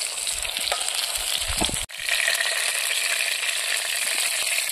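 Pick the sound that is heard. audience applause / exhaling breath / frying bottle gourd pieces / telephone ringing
frying bottle gourd pieces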